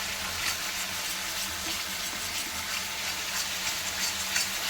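Coriander leaf paste being sautéed in a pan gives a steady, close, fairly loud sizzle and crackle that runs unbroken with no talking.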